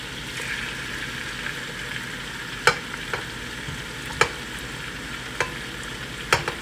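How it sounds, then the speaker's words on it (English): Shrimps go into a pot of simmering okra soup, which gives a steady close sizzle and bubble, with a few sharp spoon knocks and clinks against the pot spaced through it. "At this point, I'm going to add the shrimps."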